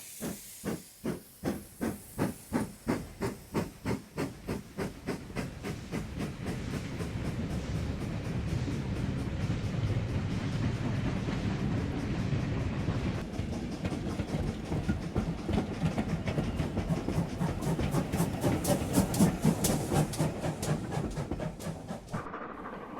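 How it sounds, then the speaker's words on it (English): An LMS Jubilee Class locomotive, number 5599, pulls a special train out of London Euston Station with loud, close steam chuffs that quicken in a steady rhythm over constant steam hiss. No voices are heard. "Another special departs from London Euston Station, hauled by one of the LMS Jubilee Class 460 locomotives, number 5599"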